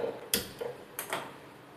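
A few sharp clicks from a gas stove knob and igniter, close and quiet, with no talking.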